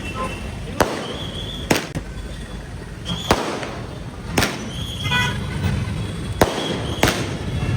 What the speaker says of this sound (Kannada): ಸೊ ಪಟಾಕಿ ಹೊಡಿತಾ ಇದೆ.